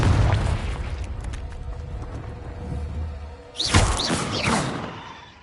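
A Confringo fire spell bursts in the Hogwarts Legacy game: a low rumbling rolls along, then a sharp, bright blast hits near the end and decays into crackling debris, with no talking over it.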